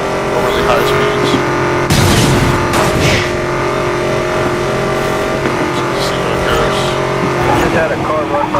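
Race cars roar and rev loudly in Need for Speed: Most Wanted during a police pursuit, engines whooshing past with tire noise, while a voice talks over the steady high-speed racket.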